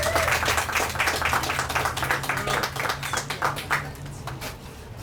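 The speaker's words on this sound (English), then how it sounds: "Can we give him a round of applause?" Audience applause for Desmond Wilson, Montgomery's Director of Economic and Community Development, at an urban agriculture center dedication, a crowd clapping steadily with a low hum underneath, thinning slightly toward the end.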